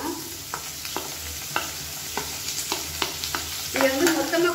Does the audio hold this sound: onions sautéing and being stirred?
yes